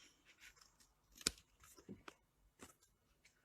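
Scissors snip once through paper while a folded card is being made, a single crisp, close cut standing out among faint paper rustles in a quiet room.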